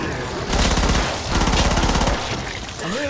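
Rapid gunfire in the zombie shooter game Killing Floor, with two loud bursts of repeated shots and a brief lull between them, over game background sound.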